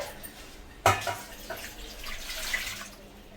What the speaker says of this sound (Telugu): దీంట్లో నేను వాటర్ వేసి వదిలేస్తాను